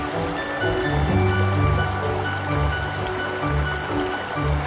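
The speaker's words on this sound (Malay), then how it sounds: "kita dapat lihat di sini aliran sungai ini" A river flows with a steady, rushing wash of water, continuous and fairly close, with no voices over it.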